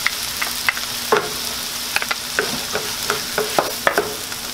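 Onion, green chile and chopped jalapeño sizzle steadily in a hot pan, with soft stirring scrapes and clicks recurring close by, and no voices.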